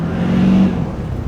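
Stock Daddymax dually pickup truck engine revving briefly under light throttle, a loud, close low rumble with exhaust note that swells and then settles back toward idle.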